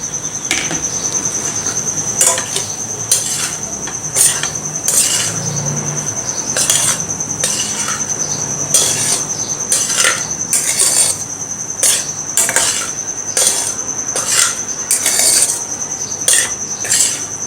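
Egg fried rice with cooked rice and sautéed vegetables is mixed in a pan, with repeated metallic scrapes and taps of a spoon every second or so over a constant high insect-like drone, and no talking.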